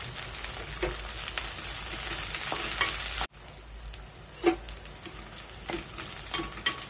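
Chopped green chillies and curry leaves frying in hot oil for bagara rice: a steady bright sizzle that drops sharply partway through, then continues with scattered crackles and stirring clinks.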